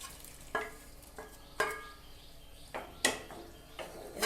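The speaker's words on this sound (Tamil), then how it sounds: "கொதிச்சிட்டு இருக்கும்போது அந்த அரிஞ்சு வச்சிருக்கிற பலாப்பழ சொலையை" Jackfruit pieces dropped into boiling jaggery syrup, soft bubbling and sizzling with several sharp stirring clinks and splashes at irregular intervals, quiet and close.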